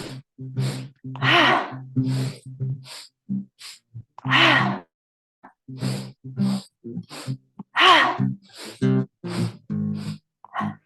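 Yoga breathing exercise with deep, loud inhales and exhales, each breath cycle separated by brief silences, heard close and repeated steadily across the stretch.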